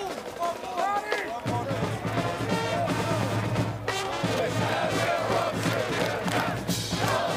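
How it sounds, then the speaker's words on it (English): A record crowd at Marv K Stadium cheers as Colorado School of Mines celebrates a DII football semifinal win, a continuous roaring wash of voices with shouts and whistles, loud and sustained throughout. "Mines celebrates in front of a record crowd here at Marv K"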